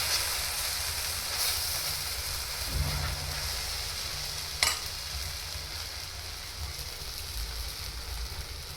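Sabudana besan pudla, a Gujarati tapioca and gram flour pancake, frying in oil in a pan: a steady, soft hiss of sizzling continues throughout, with a brief clatter partway through as the pancake is handled.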